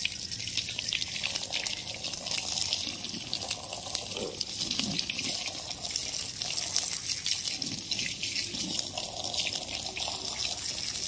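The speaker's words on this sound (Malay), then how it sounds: "cuci bersih-bersih dengan sabun, apa saja sabun yang ada kat rumah korang" Running water splashes steadily over a doormat as it is scrubbed clean with household soap, a continuous close gush with small shifts in flow and wet scrubbing, no talking.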